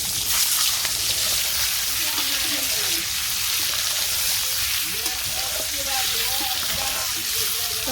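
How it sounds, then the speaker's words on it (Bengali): Eggs mixed with turmeric, salt and chili fry in a hot kadai, a loud continuous sizzle with faint bubbling crackles throughout, no voice over it. "আমার কড়াইটাও গরম হয়ে গেছে তো ডিমগুলা দিয়ে দিই"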